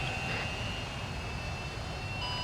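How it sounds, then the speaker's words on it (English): An aircraft engine hums steadily while a plane taxis before takeoff in the video game ArmA 3, making a constant, even drone with a thin high whine on top and no speech. "Uzi, prepare for takeoff. Start taxiing."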